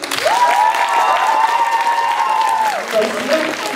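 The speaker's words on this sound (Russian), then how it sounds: "давайте поддержим аплодисментами стату, которая вам больше всего понравилась" Audience applause and cheering at a live event, with a sustained voice whoop rising over dense clapping for about three seconds before tapering off.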